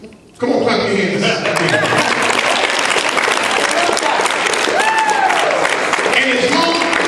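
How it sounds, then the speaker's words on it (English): A church congregation bursts into loud, sustained hand clapping after a short quiet start, a dense wash of many hands with voices mixed in underneath. "Come on, clap your hands."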